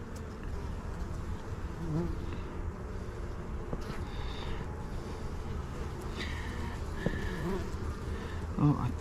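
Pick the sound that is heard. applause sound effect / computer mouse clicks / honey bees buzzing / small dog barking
honey bees buzzing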